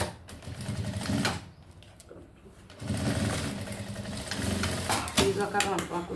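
A sewing machine stitches a seam on a personalized item in short, loud, uneven bursts of rapid whirring, with pauses and handling noises between runs.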